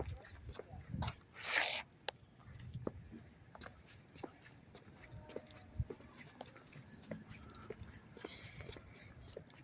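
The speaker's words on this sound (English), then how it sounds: "There's a lot of chirping from the crickets." Crickets chirp steadily outdoors in Dobbs Ferry on an August evening, a constant high-pitched drone running through the whole stretch with faint footsteps and scattered knocks beneath it.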